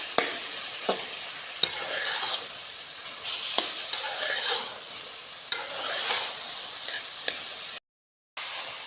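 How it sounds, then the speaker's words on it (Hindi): Carrot halwa roasts in ghee while a spoon stirs it, producing a soft continuous sizzle punctuated by sharp taps and scrapes against the pan, then a brief moment of silence near the end. "आधा कप घी शामिल करूँगी और इसकी अच्छी तरह भुनाई कर"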